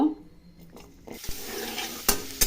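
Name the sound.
carrots frying lightly in oil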